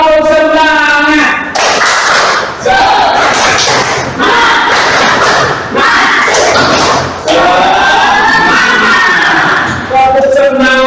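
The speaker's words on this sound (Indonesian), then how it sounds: "kita tepuk semangat dulu." A classroom of students doing a rhythmic spirit clap, loud bursts of synchronized clapping and group shouting in repeated phrases, with a teacher's voice leading between them.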